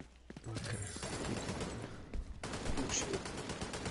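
Enemy gunfire in a first-person shooter video game, dense rapid shots rattling continuously at moderate loudness with a brief lull midway, no clear talk over it.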